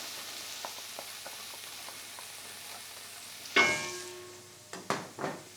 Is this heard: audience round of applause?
no